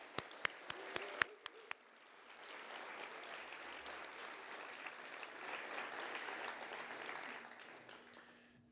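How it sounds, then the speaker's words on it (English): School principals being applauded at a State of the District event: a few sharp isolated claps at first, then a spreading wash of audience clapping that swells and stays steady, heard from a distance. "So school principals, stand up. Just get a clap or two in there."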